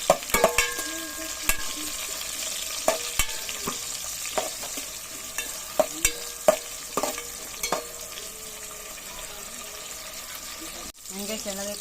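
Onions sautéing in a pan for ginisang monggo with papaya, a soft sizzle under repeated sharp clinks and scrapes of a utensil against the pan, with a brief break near the end.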